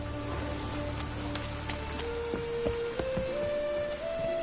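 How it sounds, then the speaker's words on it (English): Soft rain patters steadily in The Witcher 3: Wild Hunt, a quiet even hiss with faint game tones and drips running alongside. "Rain, I like rain."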